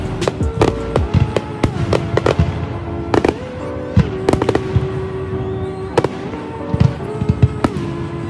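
Fireworks go off on US Independence Day: irregular loud bangs and sharp crackles burst one after another over a busy background, fairly close, with no one speaking.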